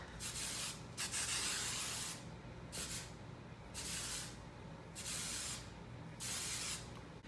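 Hairspray hisses out in a series of short, close bursts, about five sprays with brief gaps between them over a faint background.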